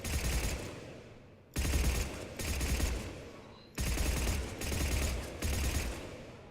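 Weapon fire in Mass Effect 3 comes in three loud bursts of rapid automatic shots, separated by brief pauses, with no voice over it.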